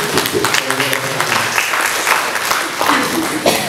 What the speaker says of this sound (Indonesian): untuk pertama kita berikan aplaus pada Bu Dian Wahyuni